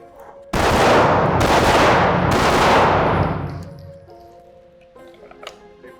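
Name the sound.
gunshots fired in shooting drill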